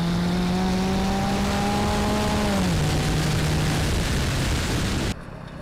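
Self-made C2 car accelerating hard from about 40 to 130 km/h, its engine tone rising steadily then dropping briefly at a gear change before climbing again, loud and close, cutting off abruptly near the end.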